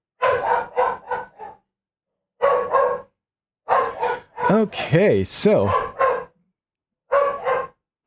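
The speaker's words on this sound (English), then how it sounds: "My dog is very adamant about protecting our home." A dog guarding its home barks in sharp repeated bursts, loud and close, some in quick runs and others strained and whining, with long gaps between groups and a brief voice speaking.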